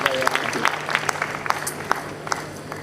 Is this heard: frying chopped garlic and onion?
no